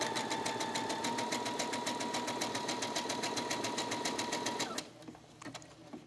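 A sewing machine stitches fabric scraps into a luggage tag, running in a fast, steady, even whir of needle strokes for several seconds before stopping abruptly, leaving a quiet room with faint handling sounds.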